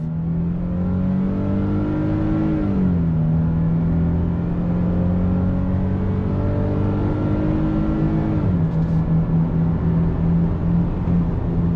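A 2022 Nissan Frontier SV pickup truck accelerates on throttle from a slow roll, its engine note climbing steadily, dropping as it shifts, then rising again, loud and continuous throughout with no talking.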